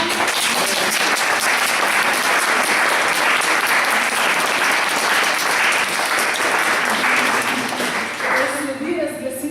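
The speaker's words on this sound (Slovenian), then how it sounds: "Še enkrat in zaploskajmo." An audience at a student haiku award ceremony claps loudly and continuously for several seconds, the applause thinning toward the end as a voice begins speaking.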